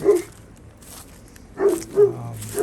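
A noisy neighbourhood dog barks from somewhere off among nearby houses during a garden tour, with a few sharp barks at the start, then a pair of barks near the end over quiet outdoor background.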